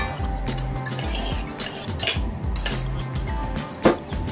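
Wet and dry biscuit ingredients mixed together in a bowl, with repeated utensil clinks and knocks against the bowl over a low scraping rumble, close and fairly loud, with no speech.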